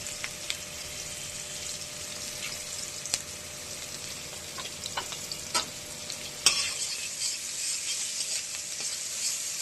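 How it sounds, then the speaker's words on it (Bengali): Onions sizzle and fry in hot oil for a boal fish curry, with a steady crackling hiss. Occasional sharp stirring clicks and scrapes come through, growing a little louder toward the end. "তেল গরম হয়ে গেছে। এবার ভেটকি মাছটা যে করব, পেঁয়াজ দিয়ে দিচ্ছি"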